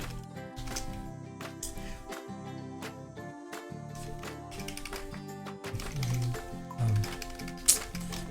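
Typing on a keyboard: brisk, irregular clicking taps close by, clattering in short bursts with brief pauses, mixed with a steady background tone and one sharp louder tap near the end.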